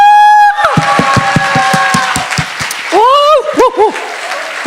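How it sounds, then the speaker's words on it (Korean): An audience at a Korean church service claps and cheers, rhythmic hand claps under loud voices calling out, with a few whooping shouts toward the end. "환호와 박수를 주님께 올려드리십시오"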